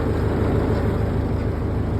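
A windrow shredder mounted on a YuMZ or MTZ farm tractor runs steadily, giving a loud, continuous low engine drone with a rough mechanical rumble and no pauses.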